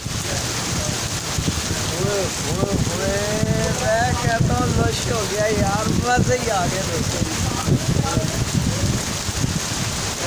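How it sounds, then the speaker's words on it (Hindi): Heavy rain pours steadily with a dense, constant hiss, close and loud, while someone talks excitedly over it throughout. "बहुत तेज़ बारिश, बहुत तेज़।"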